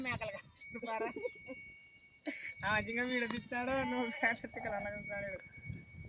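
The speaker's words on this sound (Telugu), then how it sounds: "చూడన్నా నీ గొర్రె నీ గొర్రెలు కన్నే మేపేస్తావి" Several sheep bleat repeatedly nearby, wavering calls overlapping one another, with people talking in between.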